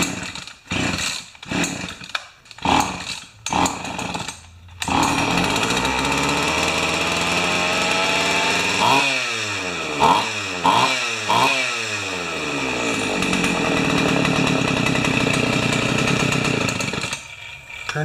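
A Pioneer Partner 500 chainsaw engine sputters through a few short bursts, then catches and runs loudly and steadily close by, its pitch rising and falling with several quick revs midway before settling back to a rough idle.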